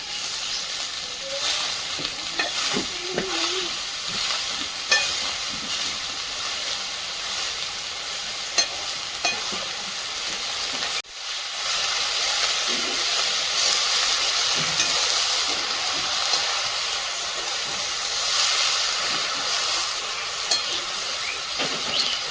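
Fresh leafy greens sizzle loudly and steadily in a hot pan with a hissing, steamy texture, broken by a brief dip midway and occasional soft stirring knocks.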